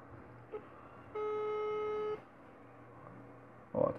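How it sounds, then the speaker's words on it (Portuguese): A single steady ringback tone sounds for about a second during an outgoing Android phone call, standing alone between faint clicks and low room noise. "tá chamando"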